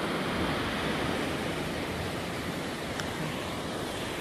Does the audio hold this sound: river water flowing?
yes